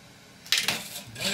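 A thin band of box elder wood breaks off a bowl spinning on a wood lathe, giving a sudden sharp crack followed by a brief rattling clatter over a low background hum.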